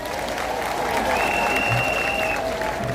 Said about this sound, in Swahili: Tusindikize Wanjakwaya na makofi